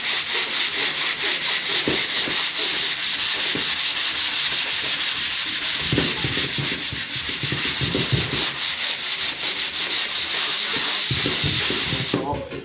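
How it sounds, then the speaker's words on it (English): Wood is sanded by hand along the grain in quick, rhythmic back-and-forth rasping strokes, loud and continuous throughout, with some faint voices underneath. "Let's start sanding."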